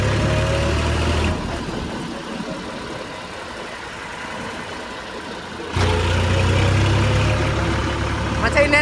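A tractor engine runs while the vehicle reverses, a steady mid-low drone that drops quieter in the middle and swells back up near the end, with no talk over it.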